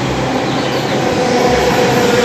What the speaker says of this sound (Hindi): ये मेट्रो स्लो है, नई मेट्रो बनवाएंगे अपने